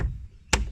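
A door handle trim piece on a Mercedes W203 door is whacked into place, one sharp, close knock after a quiet pause.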